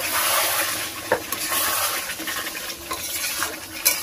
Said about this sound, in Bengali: এবারে এমনি কিছুক্ষণ ভালো করে কষিয়ে নেব।